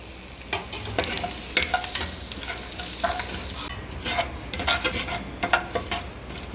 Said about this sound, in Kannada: ಈಗ ಕರಿಬೇವು ಹಾಕ್ಕೊಂಡೀನಿ